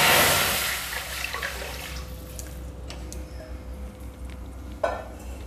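Water is poured into a kadai sitting on a gas stove, a brief splashing rush at the start that fades into a quieter, settling background.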